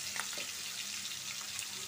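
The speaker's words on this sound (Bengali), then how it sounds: "কড়াইটা গরম হয়ে গেছে, আমি মাছ দিয়ে দিব।" Pieces of dried ribbonfish frying in a hot wok, a steady close hiss of sizzling oil with faint crackles running evenly throughout, no voices.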